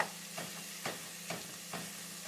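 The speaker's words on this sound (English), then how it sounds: "I'm going to be using a wooden spatula" A wooden spatula stirs pork fried rice in a hot pan, making soft, regular scraping strokes about every half second over a quiet, steady sizzle.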